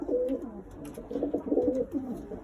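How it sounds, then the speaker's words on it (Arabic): Pigeons coo in a loft, soft throaty rolling calls that overlap in uneven bursts, close and moderately loud, with no talking. "هاي الطواير اللي عندنا حبايب القلب"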